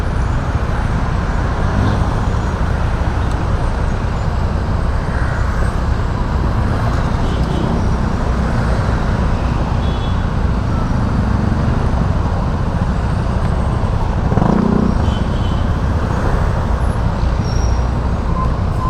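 Dense road traffic in Manila, a steady loud rumble of engines and tires from cars and buses passing close, with occasional brief thumps and no speech.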